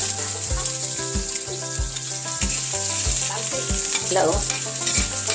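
Sayote being sautéed with ground meat, garlic and onion in a pan, a steady sizzle and stirring mostly buried under loud rhythmic background music, with one brief spoken greeting.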